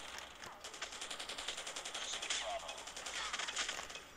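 An RPD machine gun with orbit sight fires in Call of Duty Mobile, rapid bursts of rattling automatic gunfire over game ambience, fairly close and sustained across the clip.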